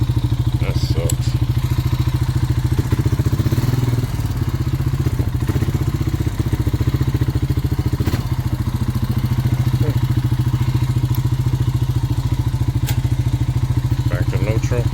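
A Honda Rancher ATV engine idles with a loud, steady low rumble and rapid putter, close by, with occasional clunks and clatter and a voice speaking over it.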